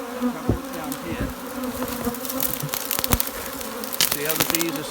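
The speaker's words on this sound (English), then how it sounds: "See how the bees are sticking their butts in the air and fanning vigorously?" A honeybee swarm buzzes steadily around a box, the bees fanning hard at the entrance, with a dense, continuous droning hum and brief sharper passes of individual bees flying close by.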